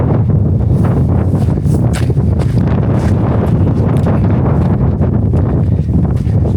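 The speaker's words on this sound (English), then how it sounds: "A little windy today" Loud, constant wind buffets the microphone at an old tungsten mine in Nevada, a dense roaring rumble, steady throughout with no voices.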